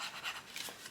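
A burnishing tool rubs along a folded paper pocket in a scrapbook mini album, giving soft, close, scratchy strokes in a brief quiet burst.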